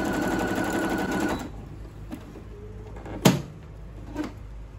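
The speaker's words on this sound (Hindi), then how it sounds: "ये आप इसका स्टिच देख सकते हैं कितना खूबसूरत तरीके से मशीन ने स्टिच बनाया" A Singer computerized sewing machine stitches with a fast steady whirr for just over a second, then stops. A few faint clicks and one sharper knock follow, close by in a quiet room.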